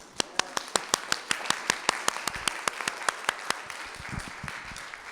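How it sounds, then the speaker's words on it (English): Audience at a Movers and Shakers roadshow event gives a round of applause, sharp individual claps in a steady rhythm rising into a fuller, denser clatter of many hands, fairly close and loud. "will we be ready to give a big round of an applause to Claude Bonte and Eleanor Schaffenberg for"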